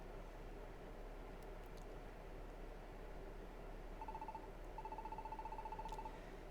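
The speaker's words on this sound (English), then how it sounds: "Do y'all hear the bird going off?" A bird calls in a chirpy, repeating electronic pattern within Pokémon Mystery Dungeon: Gates to Infinity, in a glacier area, over a steady hiss of game ambience.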